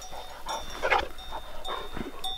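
Shepherd dogs guarding a flock of sheep near Lake Colibița in Romania give a few short, fairly faint barks and whimpers at a distance, with some quiet outdoor background between them.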